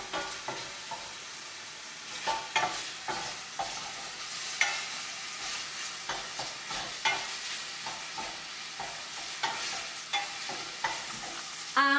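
Pork frying in a pan with garlic and ginger, a steady close sizzle broken by repeated scraping and stirring clatters throughout, with no voices.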